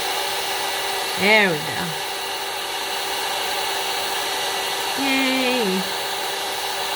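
A heat tool melts clear embossing powder with a steady, close, loud blowing whine running without a break, while someone briefly speaks and cheers over it.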